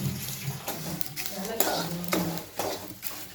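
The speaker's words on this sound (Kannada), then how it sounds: "ನಾವೀಗ ಈಗ ಹುರ್ಕೋತಾ ಇದ್ದೀವಿ ಇದೆಲ್ಲವೂ ಕೂಡ ಡ್ರೈ ರೋಸ್ಟೇ ಮಾಡಬೇಕು" Ingredients for North Karnataka style garlic chutney are dry roasted in a pan, with a spoon or spatula scraping and clinking against the metal in irregular strokes, close and moderately quiet.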